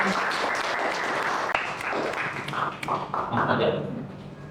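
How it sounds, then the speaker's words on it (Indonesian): A burst of hand clapping from a group, mixed with voices and chatter, tapering off toward the end. "terima kasih tepuk tangan"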